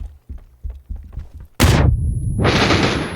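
Grenade explosion in the battle-royale shooter PUBG, a sudden loud close blast followed by a long roaring rumble and debris hiss, preceded by soft footstep-like thumps.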